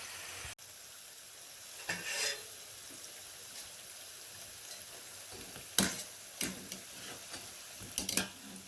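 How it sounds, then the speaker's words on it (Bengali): Thekua frying in oil over a very low flame gives a faint, steady sizzle, broken by a few sharp clicks and scraping knocks as pieces are turned. "খুব অল্প আঁচে আমি ভাজছি"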